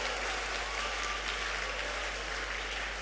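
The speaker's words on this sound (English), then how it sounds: "A round of applause for the Ghana Dance Ensemble." An audience at an inaugural lecture applauds a dance ensemble with steady, dense clapping that fills the whole stretch at close range, sustained and even without breaks.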